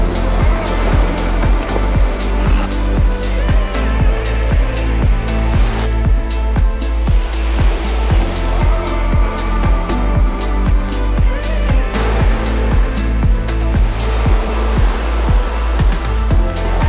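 Mediterranean sea waves roll onto the Cyprus shore among wildflowers, a loud continuous wash of surf with repeated surges and no voices.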